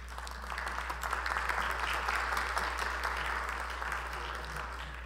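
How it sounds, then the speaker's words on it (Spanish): Applause welcoming a guest at an international scientific seminar on quinoa, a faint but steady round of clapping from an audience over a low constant hum. "el doctor Paulino Machaca Ari, a quien lo recibimos con un fuerte voto de aplausos."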